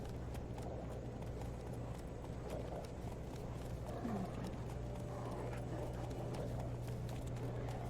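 Faint horse hooves clip-clop at a walking pace in the video game The Witcher 3 over a steady low hum, with a brief neigh-like squeal partway through.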